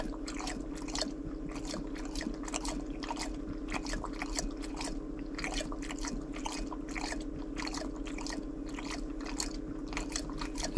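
A thirsty cat laps water at a small outdoor source. Quick, wet tongue flicks repeat at a steady rhythm, close and fairly quiet, over a constant low background hum.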